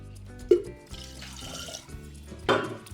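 Water is poured from a glass onto yogurt in a clay pot while making sweet lassi, a brief splashing trickle under steady background music.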